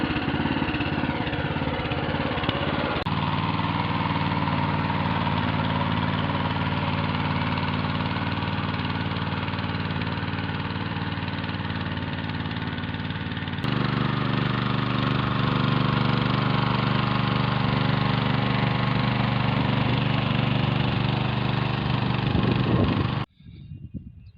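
A vehicle engine pulls a homemade potato planter across a field, a steady loud mid-pitched drone with a slight shift in tone partway through, running alone until it cuts off near the end.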